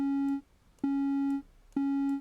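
A synthesized tone from the Wellen library, played through an oscillator shape other than the default sine wave, sounds as three loud, buzzy, harmonically rich beeps of equal pitch, each about half a second long and evenly spaced.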